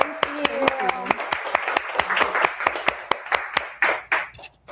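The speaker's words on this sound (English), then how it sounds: "can we give a round of applause to Michelle?" A small audience at a book launch claps for an author in distinct, uneven hand claps that thin out toward the end, with a voice speaking briefly at the start.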